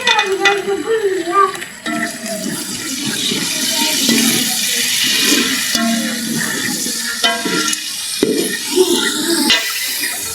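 Tomatoes and green chillies fry in a pan with a loud, steady sizzle, cut through by scraping and clanking of stirring at intervals, with a faint voice briefly at the start.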